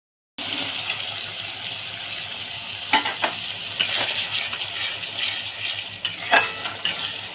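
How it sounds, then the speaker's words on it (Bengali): Onion paste fries with ginger and garlic in a pan, a close, steady sizzle broken by several louder scraping stirs, starting abruptly after a brief silence; no one speaks. "যখন না পেঁয়াজের গন্ধটা যাচ্ছে ততক্ষণ আমি ভাজবো এটাকে আদা রসুনটা দিয়ে দেবো"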